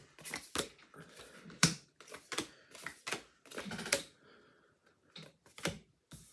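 A deck of tarot cards is shuffled and cards are drawn, giving close, crisp bursts of riffling and snapping card noise in irregular clusters separated by short pauses, with no talk.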